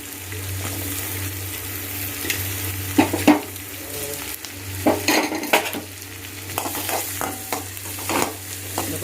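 Chopped onion and garlic sautéing in a pan, a steady sizzle with repeated stirring and scraping sounds and a few louder clatters, close and alone with no talk.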